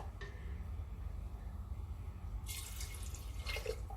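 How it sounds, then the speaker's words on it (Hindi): Water is poured into a cooking pot of homemade mutton korma, in two short splashing bursts that stand out over a steady low kitchen hum. "2 गिलास पानी डाल दिया है।"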